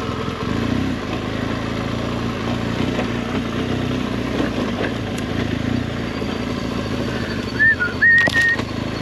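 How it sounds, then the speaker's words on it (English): A rider whistles a short bright tune near the end, over the steady rumble of a BMW 1200 GS motorcycle running along a trail, with the engine drone filling the whole stretch. "I don't know why the fuck I whistle so much."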